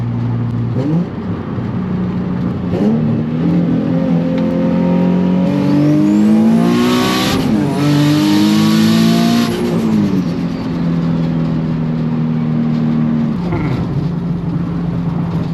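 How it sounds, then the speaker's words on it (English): A turbocharged Nissan 350z accelerates hard in second gear, engine note climbing loudly and steadily with whirring turbo, peaking then dropping as it lifts off and settles to a lower drone. "Give you guys a little second gear pass right here real quick."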